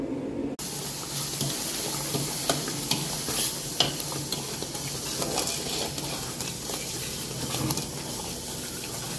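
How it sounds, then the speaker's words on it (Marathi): Spice tempering sizzles in hot oil while being stirred, part of a Kolhapur-style meal with tambda and pandhra rassa, giving a steady crackling hiss with scraping stirs and occasional sharper pops, close and continuous with no voices. "बाकी आता फोडण्याच मारायचे राहिलेत."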